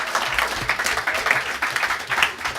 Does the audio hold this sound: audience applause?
yes